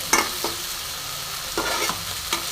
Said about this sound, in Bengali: মাংসের সাথে মশলা একসঙ্গে মিশিয়ে সুন্দর করে কষে নিতে হবে।